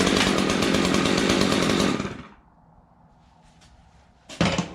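A Stihl MS201TC arborist chainsaw runs loud and close for about two seconds after cleaning, then drops to a low idle burble before a brief sharp revving burst at the end.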